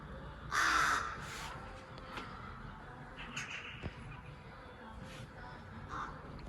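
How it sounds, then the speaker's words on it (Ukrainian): Crows caw on a foggy morning: a loud burst of several harsh calls early on, then scattered fainter caws further off over a steady outdoor background hiss. "Ворони розкаркались."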